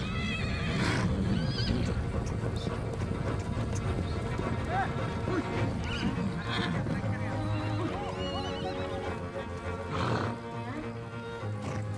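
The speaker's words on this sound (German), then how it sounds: "Inzwischen hat Bazurik die Pferde gefunden" Horses in Mongolia neighing and whinnying several times amid a busy, steady herd background, with thudding hooves and a voice talking over much of it.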